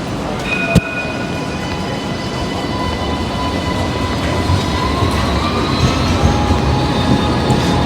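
A tram passes along a Sydney street, loud and close, with a sharp clank at the start, then a sustained rolling rumble and high wheel squeal whose pitch glides during the pass, no talking.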